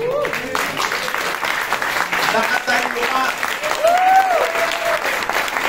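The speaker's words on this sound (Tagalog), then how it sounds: "Dapat may narinig ako palakpak." A political campaign crowd applauds a former health undersecretary running for a party-list seat, steady clapping that runs under someone speaking throughout.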